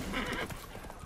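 A horse in the video game The Witcher 3: Wild Hunt gives a sharp whinny followed by clip-clopping hooves, fairly quiet and brief.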